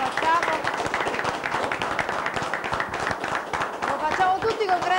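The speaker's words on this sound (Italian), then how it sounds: "io direi di applaudire questo momento." A crowd at a sports-club tribute show claps together in a rhythmic, fairly loud burst of applause that carries on steadily, with some voices mixed into the clapping.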